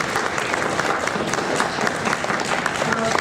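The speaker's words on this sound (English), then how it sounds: "I think a round of applause is in order." An audience claps steadily throughout at a candidate forum for village trustee seats, producing a dense, even wash of applause from a roomful of people.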